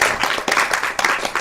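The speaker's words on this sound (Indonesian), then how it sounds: "sini tepuk tangan temannya yang depan" Classroom applause for classmates standing at the front, a brief burst of hand clapping with uneven rhythm, close and fairly loud, no one speaking.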